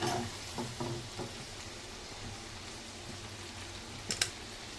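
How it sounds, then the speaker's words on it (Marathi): Methi muthiya frying in oil in a pan over medium gas, a steady low sizzle with scattered light crackles and a couple of sharper pops near the end, fairly faint and close. "हे बघा मीडियम गॅसवरच आपल्याला हे तळून घ्यायचे"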